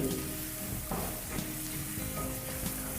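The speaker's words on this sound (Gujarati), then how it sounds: "હવે આ બધા મસાલાને થોડા આપણે સાતળી લઈએ" Spices sautéing in a pan, a quiet steady sizzle broken by a few soft stirring scrapes.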